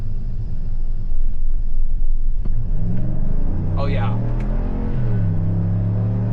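A 2025 Chevy Silverado ZR2 AEV Edition pickup with the 6.2-liter V8 and open active exhaust accelerates from low speed over bumpy roads, its loud, deep engine rumble rising and falling, with someone speaking briefly partway through.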